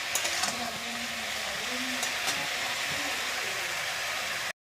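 Vegetables with potato and cauliflower fry in a pan, giving a steady close sizzle with occasional scrapes of stirring and a low hum underneath, before cutting off abruptly.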